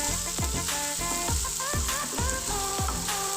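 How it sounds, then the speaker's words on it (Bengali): Vegetables frying in a pan for a vegetarian broken-wheat pulao, a continuous sizzle overlaid by loud rhythmic melodic music with repeated descending tones, no talk. "সবজিটা কিন্তু যাতে নরম নরম হয়ে আসে সেভাবে আমাদের একটু ভালো করে ভেজে নিতে হবে"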